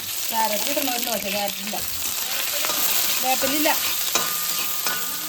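Dried red chillies, green chillies, ginger and onion frying in a home kitchen pan: a loud, continuous close sizzle with stirring, while a person talks over it.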